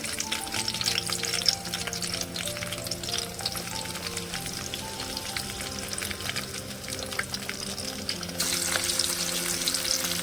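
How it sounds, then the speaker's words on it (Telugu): Chopped onions and green chillies fry in oil in a pan, giving a steady, close crackling sizzle with some stirring scrapes, growing slightly brighter toward the end. "కట్ చేసి పక్కన పెట్టుకున్నటువంటి ఉల్లిగడ్డ, పచ్చిమిర్చి ముక్కలు వేసుకున్నానండి"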